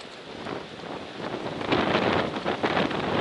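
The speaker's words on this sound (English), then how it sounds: "The worst part about today is this wind." Cold wind gusting on an Appalachian Trail hike, a loud, steady roar buffeting the microphone and growing stronger near the end.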